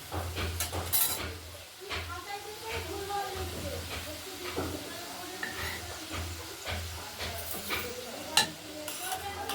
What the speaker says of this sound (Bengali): ভাজতে থাকি তারপর দেখাবো নিমপিগুলোকে ভাজি লাল করে নেবো